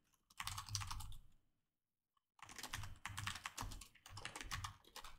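Close, quiet keyboard typing in rapid clicking bursts, pausing for about a second before resuming steadily.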